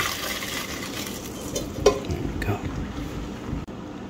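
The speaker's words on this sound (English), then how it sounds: "now we're going to add the spaghetti into this mesh strainer" Cooked spaghetti and its water pour into a mesh strainer, giving a steady close hiss of draining liquid with a couple of faint clinks.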